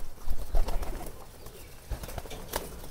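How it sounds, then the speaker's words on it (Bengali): Domestic pigeons at a pigeon farm coo softly and repeatedly nearby, with low throaty calls overlapping and some light rustling. "ভিতরের যে কবুতরগুলো আছে এগুলো দেখেন বার হইতে পারতেছে না কবুতরগুলো"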